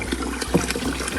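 Rice being rinsed in water, with short sloshing and splashing pulses close by, fairly loud and without talk.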